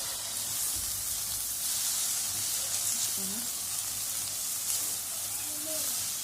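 Onions with a couple of small peppers sizzle in a pan for Egyptian minced-meat goulash, giving a steady soft hiss with occasional faint scrapes of stirring and no talk.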